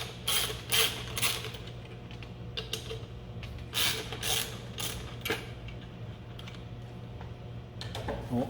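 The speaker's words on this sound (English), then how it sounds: "Go ahead and unbolt the rear wheel with our socket wrench with a 15mm socket." Socket wrench fitted with a 15mm socket loosening the rear wheel bolts of a bicycle: close, repeated ratcheting clicks and creaks in short bursts, with quieter mechanical rattles between, and no talking.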